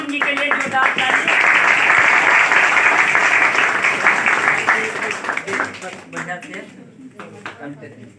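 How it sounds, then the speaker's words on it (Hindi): Loud, dense applause from a large audience at a business event, sustained for several seconds before thinning into scattered claps and fading. "जोरदार ताली"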